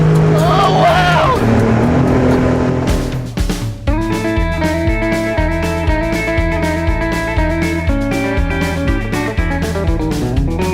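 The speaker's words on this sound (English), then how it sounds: "Race car boats go really fast." A jet boat car races across water, its engine roaring loud and close with a pulsing, revving drone, while voices call out over the noise.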